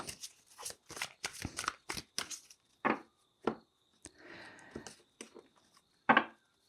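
Tarot cards are shuffled by hand in a series of close, crisp riffles and flutters separated by short pauses, with a soft sliding rustle midway and a final sharp snap, no talking.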